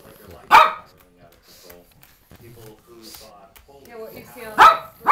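A Pekingese dog gives a few sharp, loud barks at close range, one near the start and another near the end, separated by quiet stretches of people talking.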